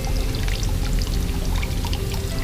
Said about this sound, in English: I'm going to put a bit more water in this